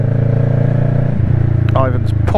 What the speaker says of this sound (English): Ivan's popping away in the morning. It's always a nice noise to hear.